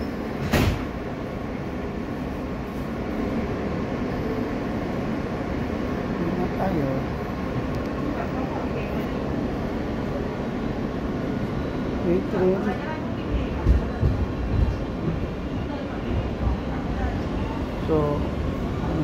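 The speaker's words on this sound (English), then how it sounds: "This is the Manhattan Bound R local train." A Manhattan-bound R local subway train rides along, a continuous rattling rumble with squeaks and clanks heard from inside the car, with faint voices underneath.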